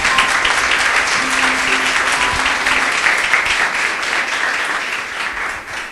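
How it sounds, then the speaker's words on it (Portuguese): A church congregation applauding loudly, dense continuous clapping from many hands filling the room, tapering slightly toward the end. "Louve a Deus com suas palmas"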